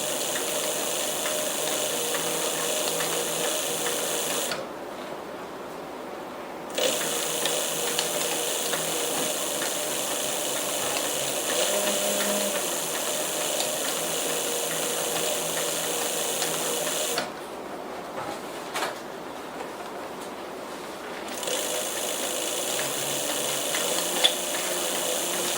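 A sewing machine stitches a leather jacket panel in long steady runs of rapid, loud, close mechanical whirring, stopping twice for a couple of seconds before resuming, with no talking.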